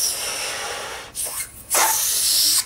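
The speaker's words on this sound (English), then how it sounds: "stretch out the balloon and blow it up" Someone blows up a stretched balloon with two long, breathy, hissing exhalations separated by a brief pause, close and loud.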